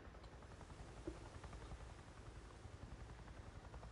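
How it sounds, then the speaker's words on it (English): Helicopter in the Days Gone video game, heard as a faint, distant, steady rotor drone under a hissy background, with no talk. "I hear a helicopter. You hear it?"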